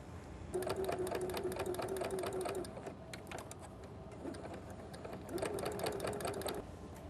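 A sewing machine zigzag-stitching around the edges of an iron-on appliqué, two steady runs of rapid close needle chatter separated by a quieter pause.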